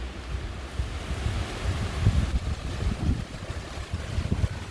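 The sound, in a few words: strong wind blowing in a garden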